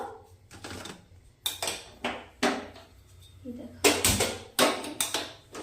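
A metal wok clanks against a gas stovetop in several sharp, close knocks with pauses between, and a voice speaks briefly in the background.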